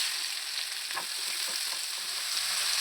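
Finely sliced onions, four of them, sizzle in hot oil with mustard seeds and fennel for a Kerala-style egg gravy, a steady close frying hiss with faint stirring clicks and no talking.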